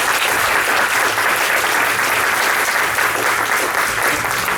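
An audience at a county clerk of court candidates' forum in Johnston County, North Carolina, claps steadily in a dense, even round of applause that holds at full strength for several seconds.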